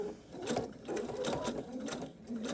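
A sewing machine quilts through fusible appliqué on a small quilt-as-you-go project, running in steady close-up bursts of rapid stitching with brief slowdowns between them.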